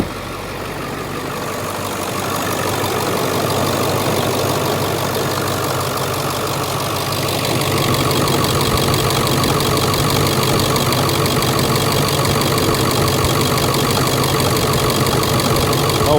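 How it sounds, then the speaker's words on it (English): The 7.3L Powerstroke diesel V8 in a 2001 Ford Excursion Limited 4WD idles with a steady, close, rattly clatter, growing slightly louder partway through and holding a constant rhythmic knock with no talking. "let me get out so you can hear it idle"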